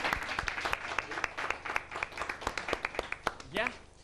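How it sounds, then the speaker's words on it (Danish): An audience claps at a Danish sports bingo TV show, sharp individual handclaps in a rhythmic, fairly sparse burst, with a voice speaking over it near the end. "jeg synes, det er lige, vi skal klappe af Ole og Gitte."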